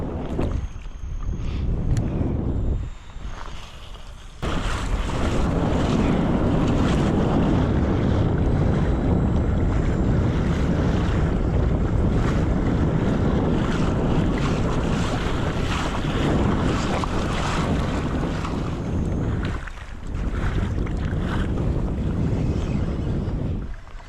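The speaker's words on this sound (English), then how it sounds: "This wind's really starting to cook." Strong northwest wind blows across a fishing boat on open water near a beach, a loud, continuous roaring buffet against the microphone with water wash underneath and a couple of brief lulls.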